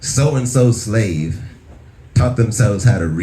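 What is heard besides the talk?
No everyday noises stand out.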